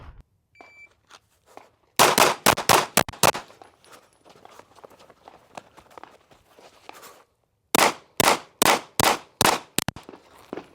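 Pistol shots fired at targets with a Cyelee Chameleon SRS-8 red dot sight ring out in two sharp, evenly spaced strings of about six close, loud reports, separated by a quiet pause with faint shuffling.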